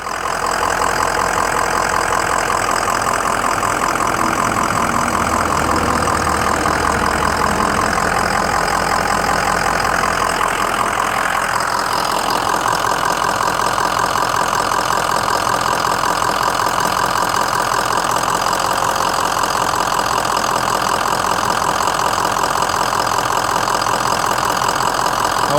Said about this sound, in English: Let me let you listen to it idle.